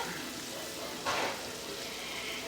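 Smothered steak sizzles and fries in a pan with drippings, a steady crackling hiss with a brief louder surge partway through.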